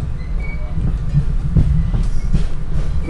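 An NJ Transit train rolls along the rails, with a steady low rumble and faint wheel clatter running continuously and fairly loud, no voices present.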